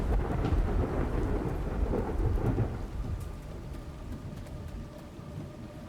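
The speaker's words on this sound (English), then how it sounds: "And now it's raining." Steady rainfall in the Minecraft game, with a broad hiss of falling water and low rumbling thunder swelling early before settling into softer, continuous rain.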